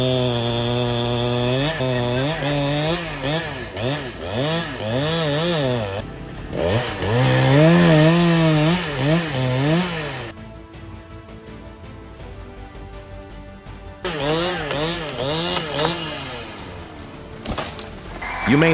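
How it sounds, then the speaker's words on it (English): A gasoline chainsaw cuts and fells dry trees near rice fields, its engine revving up and down in loud, wavering surges with short easing pauses between cuts. "With a gasoline saw, he carefully cut and felled trees, avoiding danger to the rice fields."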